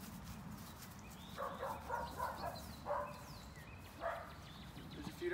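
Several dogs give short barks and whines in separate bursts, four or so spread evenly, fairly faint against low background noise.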